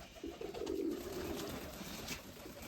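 Crested, shaggy-footed pigeons coo in a single low, warbling phrase that swells and fades over a couple of seconds, fairly close and alone against a quiet outdoor background.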